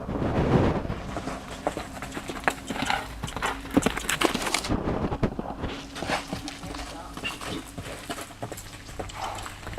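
Hoofbeats of a black Swedish Warmblood stallion moving loosely on the ground, a steady run of clip-clop strikes up close, with a person talking over the sound at times.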